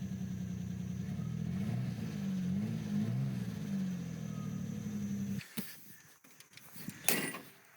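A 1989 Ford Bronco II, previously wrecked, idles with a low, throbbing engine note for several seconds, fairly close, then cuts out abruptly, leaving faint rustling and a few short clicks.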